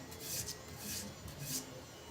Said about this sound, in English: I just pass the blade on the sandpaper to get the burr